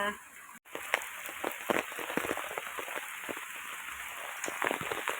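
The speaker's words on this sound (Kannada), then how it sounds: "ಒಮ್ಮೆ ಬಿಟ್ಟಿತ್ತು ಈಗ ಪುನಃ ಹಾಗೆ ಸ್ಟಾರ್ಟ್ ಆಗಿದೆ" Steady rain pattering on a surface during a home wedding mehendi ceremony, a dense continuous hiss with scattered louder drops, close and fairly loud throughout, and no clear speech over it.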